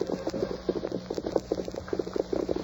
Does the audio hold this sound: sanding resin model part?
no